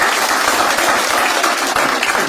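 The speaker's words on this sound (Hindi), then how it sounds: "एक बार जोरदार ताली हो जाए आपके लिए भी।" A stand-up comedy audience claps loudly together, a thick, even burst of applause filling the room, close and sustained for a couple of seconds with no speech over it.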